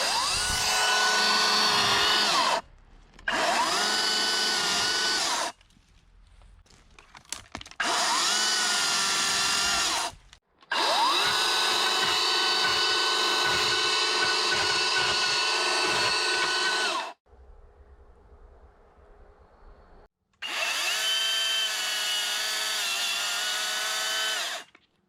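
Kress KC300 60V commercial battery chainsaw cutting trees outdoors, a loud high-pitched electric motor whine in long bursts that start and stop repeatedly with short quiet gaps between cuts.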